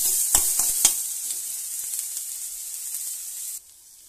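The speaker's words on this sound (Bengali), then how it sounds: "এগুলো খুব বেশি ভাজবো না, হালকা লাল করে ভেজে নিচ্ছি আমি।" Potatoes sizzle and fry loudly in a wok, with a few sharp clicks of stirring near the start, then the hiss cuts off abruptly toward the end.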